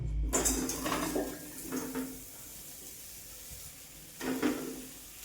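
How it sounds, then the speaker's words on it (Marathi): A metal kadhai is set down on a gas stove and boiled amla are tipped into it, producing a few distinct clanks and scraping knocks separated by quieter gaps. "आता गॅसवर कढई ठेवायची आणि जे आवळे आपण उकडून घेतलेले त्याच्यामध्ये टाकून घ्यायचे पूर्ण"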